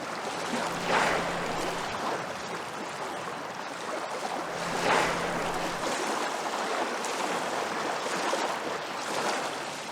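Churning sea water at the end of a spit where two coastal currents meet, on the Moray Firth: a steady broad wash of water with periodic swells, continuous and fairly close, no voices.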